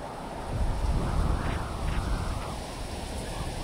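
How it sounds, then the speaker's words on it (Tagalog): Strong wind blowing across an outdoor campsite during a long-weekend camping trip, a constant loud roar buffeting the microphone with gusts swelling and easing throughout. "Na lakas na ang hangin"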